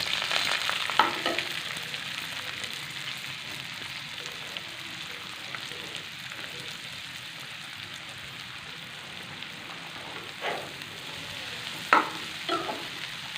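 Onions sizzle and crackle steadily in hot oil in a pan while aloo tikki is being prepared, a continuous fry noise with a few louder pops and stirring scrapes toward the end.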